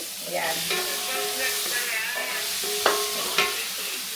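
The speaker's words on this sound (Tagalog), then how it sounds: "magigisa na ako ng bawang sibuyas" Garlic and onion sautéing in a pan for pork sinigang, with a constant close hiss of frying under occasional stirring and two sharp utensil knocks near the end, with a brief spoken word.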